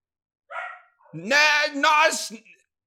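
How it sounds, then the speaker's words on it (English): A dog barks in a few sharp, loud bursts close by, with a short whine at the start. "Stop barking, please!"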